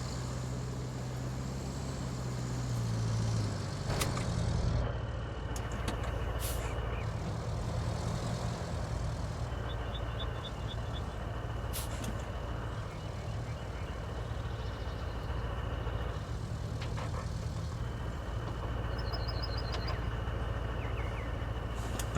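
A heavy truck in the RoadCraft game grinds along steadily in low gear, its engine drone continuous and fairly loud for the whole stretch, with a brief heavier surge early on and no voices.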